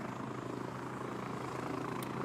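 Helicopter in the video game Insurgency Sandstorm, a steady rotor thrum and engine drone, loud and continuous, with no talking.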